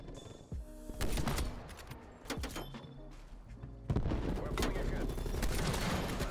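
LW3 sniper rifle firing in Black Ops Cold War, a few heavy, loud gunshots amid dense battle noise, with other weapons and impacts around them.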